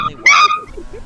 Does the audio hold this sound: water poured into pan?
no